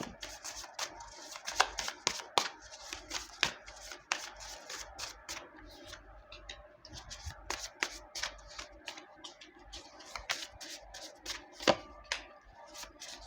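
Tarot cards being shuffled by hand, with close, irregular flicks and riffling snaps repeating throughout at a quiet level.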